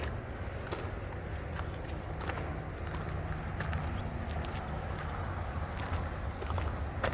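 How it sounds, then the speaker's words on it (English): Distant traffic from the 202 freeway in Phoenix, Arizona, heard from a hiking trail on South Mountain as a steady broadband roar with faint scattered ticks and rustles, with no talk. "And that noise you hear is the 202 freeway."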